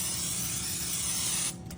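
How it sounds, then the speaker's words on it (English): Butter spray hisses onto a muffin tin in one long, loud, steady burst lasting well over a second, then cuts off abruptly, leaving a quiet kitchen. "we're gonna use our butter spray and just pan our muffin tin"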